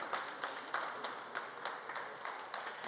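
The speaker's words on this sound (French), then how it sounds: "C'est sous les applaudissements qu'il a fait son entrée ce mercredi matin dans le palais présidentiel." Steady crowd applause greets Prime Minister Amadou Gon Coulibaly as he enters the presidential palace on a Wednesday morning, with dense overlapping claps holding at an even, moderate level throughout.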